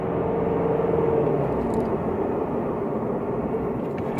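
A Shelby GT350 engine pulls in second gear at low revs, a close, steady low rumbling drone heard from inside the car with no talking.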